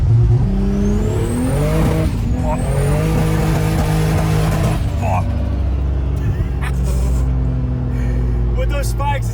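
A 1300-horsepower Nissan Patrol on spiked tyres accelerates along a snowy winter road with a loud, steady engine roar that rises in pitch. People talk over it inside the cabin.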